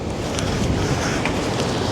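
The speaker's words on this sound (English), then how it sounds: "You see those waves? The waves are getting higher and higher by the minute." Rough ocean waves and strong wind along the Jamaican coast during Hurricane Melissa, a steady, dense roar of surf with wind buffeting the microphone, loud and continuous with no distinct breaks.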